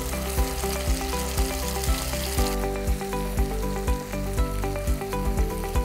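Black cumin seeds and chopped green chillies sizzle in hot oil for a Bengali fish dish, a steady dense frying hiss with regular soft stirring taps and a brief burst as the spices hit, heard up close with no talk.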